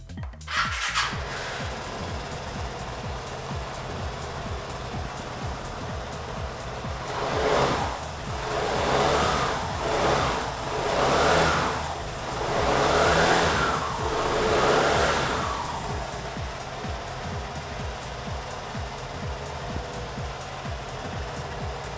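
A Piaggio Vespa Sprint 125 scooter engine starts and settles into a steady running drone, with several revs swelling and falling in the middle before it returns to an even idle, close and alone.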